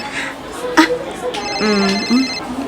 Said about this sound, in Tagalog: Rene, agun uni mo ti cellphone mo